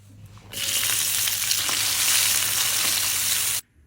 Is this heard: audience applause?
no